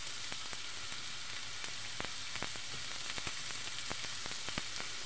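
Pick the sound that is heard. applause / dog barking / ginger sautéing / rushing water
ginger sautéing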